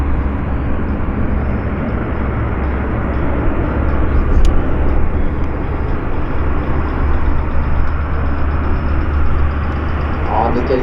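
An RCAF CP-140 Aurora patrol aircraft rolls for takeoff at the Comox airshow, its turboprop engines producing a loud, sustained, heavy roar that stays steady throughout, with a voice faintly present beneath.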